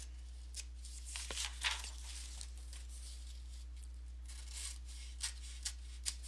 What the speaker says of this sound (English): Then we have this one, which you're actually going to cut out the square out of the corner. So let's cut that out.